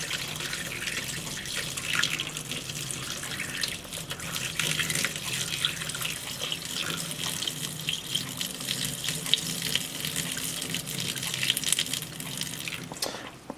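Rinse water drains from fodder seed into a container with a steady close splashing and trickling, like water running into a sink, continuing for the whole stretch.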